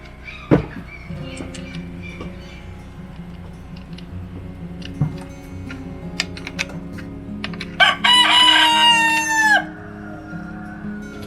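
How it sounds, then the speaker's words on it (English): Rooster crows once in a loud, drawn-out call partway through, set against scattered clicks and taps from nearby work assembling a Garwinner 5820G chainsaw. "Freaking roosters."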